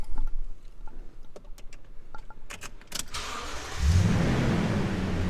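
A 2020 Toyota Tundra SR5 CrewMax 4WD cranks briefly with a few clicks and then catches. Its engine settles into a steady, loud, close idle rumble that continues to the end.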